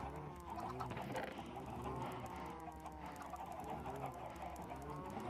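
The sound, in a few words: chickens clucking in a video game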